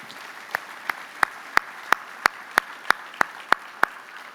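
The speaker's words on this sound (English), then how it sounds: "Ladies and gentlemen, let's give our planners a round of applause." An audience applauds event planners at a defense IT gathering, a run of around a dozen sharp claps in a steady, even rhythm, clear and close.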